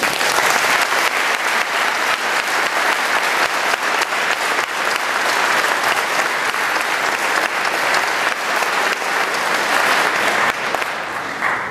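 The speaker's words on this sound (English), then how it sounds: "Let us give another round of applause and thanks to our Korean War veterans" An audience applauding Korean War veterans, sustained dense clapping from a large crowd that continues evenly for about ten seconds before tapering off.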